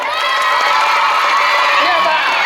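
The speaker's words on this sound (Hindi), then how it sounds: "तो भाइयों बहनों जरा हल्ला करके ताली बजाइएगा" A crowd watching a street magician and comedy show near a temple cheers and shouts loudly, with children's voices prominent in a continuous, dense roar and little distinct clapping.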